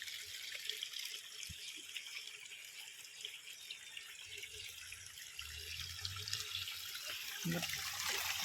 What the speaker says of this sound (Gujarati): આ બોરમાંથી બી ઓવરફ્લો થવા માંડે પાણી